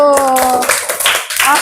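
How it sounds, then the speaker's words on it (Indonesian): A class of students breaks into brief applause together in a classroom, a short burst of scattered clapping mixed with voices. "tepuk tangan untuk kita semua dulu"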